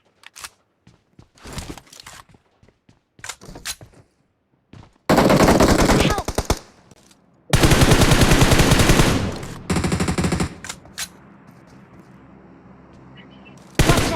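Gunfire in a battle royale video game: scattered single shots and short bursts give way to long, loud, rapid automatic volleys during a close squad fight, with brief pauses between the heavy bursts.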